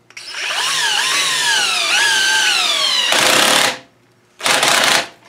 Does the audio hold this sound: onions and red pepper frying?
no